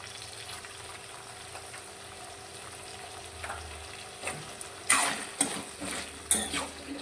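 Peeled medium-size potato pieces sauté in oil over a high gas flame, a steady close sizzle with a few sharper stirring clatters toward the end.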